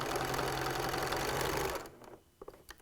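A sewing machine stitches binding onto a T-shirt quilt in a steady, fast mechanical whir for almost two seconds, then stops, leaving a few faint handling clicks.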